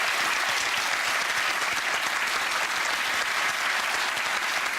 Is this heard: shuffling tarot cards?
no